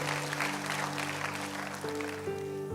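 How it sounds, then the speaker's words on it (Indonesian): Loud applause from a church congregation during a Christmas sermon, a dense wash of clapping lasting a few seconds under sustained organ or keyboard tones, with no voices over it. "Tepuk tangan yang keras."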